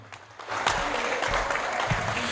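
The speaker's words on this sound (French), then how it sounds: "on applaudit très très fort un homme de l'ombre, Rachid." A crowd breaks into loud, sustained applause after a brief quiet moment, clapping filling the space for a couple of seconds.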